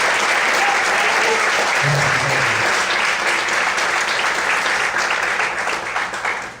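A church congregation breaks into steady applause, thick continuous clapping that holds for several seconds and then begins to thin out at the end.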